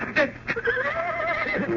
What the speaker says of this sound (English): take care of my horse